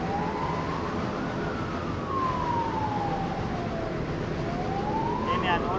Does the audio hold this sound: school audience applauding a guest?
no